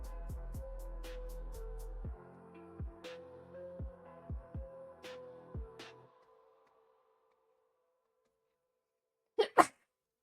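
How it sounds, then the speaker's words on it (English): Some plucked, ringing tones fade to silence, then a single sharp, close sneeze bursts out near the end. "Sorry for the sneeze, by the way, guys."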